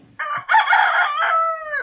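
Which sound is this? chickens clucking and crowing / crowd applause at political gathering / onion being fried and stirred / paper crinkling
chickens clucking and crowing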